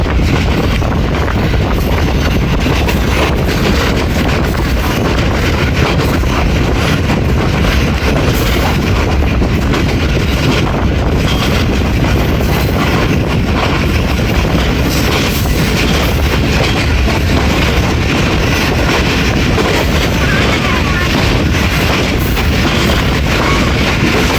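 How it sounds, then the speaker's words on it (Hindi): The 14 Down Awam Express passes through Buddhu railway station in a long, steady rush of loud rolling rumble and rattling wagons, with no voices over it. "ग्यारह बज के 20 मिनट और बुद्धू रेलवे स्टेशन से पास थ्रू होगी हमारी 14 डाउन अवाम एक्सप्रेस।"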